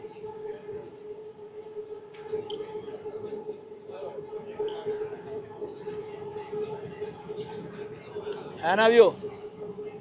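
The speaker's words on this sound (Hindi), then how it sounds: "हर जगह से ये मेट्रो ही जा रही है" A Bangkok metro train runs on an elevated line above city traffic, giving a steady rumble with a faint tonal hum and a brief rising squeal near the end, while someone talks over it.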